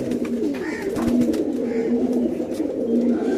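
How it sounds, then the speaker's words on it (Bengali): Domestic pigeons coo in a low, steady murmur that runs throughout, with several overlapping calls close by and faint rustling underneath. "মাদিগুলো অনেক ভালো কবুতর"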